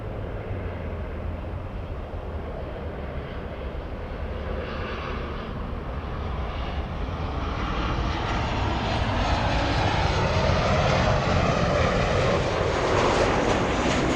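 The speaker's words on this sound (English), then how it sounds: "We have a Coletta 747 taking off like a rocket." A Kalitta Boeing 747 takes off at Los Angeles airport, a broad, steady jet roar that builds in loudness toward the end, rumbling heavily in the low end with no voices.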